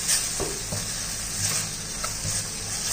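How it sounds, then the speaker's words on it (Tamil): Vegetables are stirred in a pan over low sizzling heat, with faint scraping strokes and a soft, continuous fry under them. "நல்லா மிக்ஸ் பண்ணிடுவோம்."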